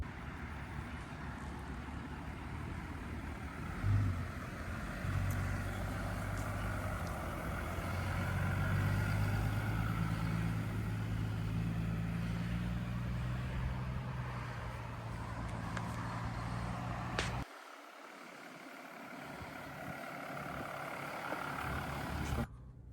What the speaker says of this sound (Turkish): Evet arkadaşlar, şimdi aracı sürüşe geçtik.